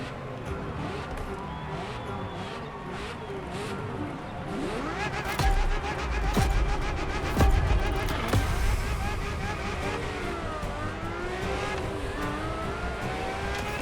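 A Ferrari F50 engine driving in The Crew Motorfest in Hawaii, a loud, continuous high-pitched howl that rises and falls through gear shifts and revs, with a narrator talking over it.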